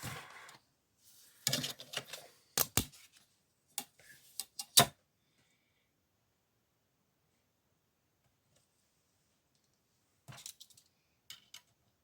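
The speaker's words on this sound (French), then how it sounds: "je vais couper le morceau" Scissors snip through a piece of paper for a baby album: a short cluster of crisp cuts and clicks at the start, a few more sharp snips, then near silence before two faint final cuts.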